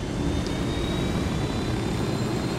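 A helicopter flies in the video game Ghost Recon Wildlands, producing a steady, loud engine and rotor roar that holds constant throughout, close up and without speech.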